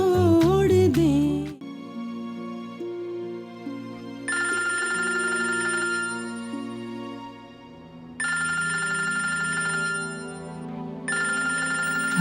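A phone ringtone plays in a domestic drama scene, a loud, clear melodic tone that rings in three long bursts with short pauses between them, close and alone without talk.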